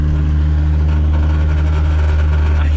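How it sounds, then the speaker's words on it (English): Loud, constant engine drone from inside a running Nissan 240SX, with a steady low hum and a faint buzzy rattle from the exhaust riding on top. "I'm pretty sure that's the exhaust that I hear rattling back there."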